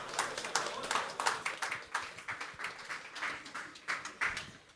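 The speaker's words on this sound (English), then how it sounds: "Please bring them on with a big applause." Audience applause at a business conference as session speakers come on stage, a sparse scattering of distinct claps in an irregular rhythm, moderately close and unaccompanied by talk.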